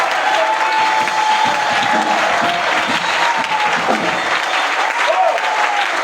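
Church seminar audience giving loud, sustained applause mixed with cheering acclamations, steady and dense for the whole stretch, with a few voices standing out within the crowd noise.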